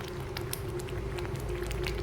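Saag simmering in a pot on the stove, with a steady bubbling and gurgling that runs unbroken throughout and scattered small pops at close range, and no voices.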